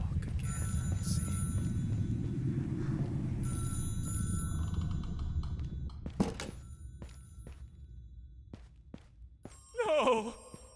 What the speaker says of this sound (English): Your phone ringing.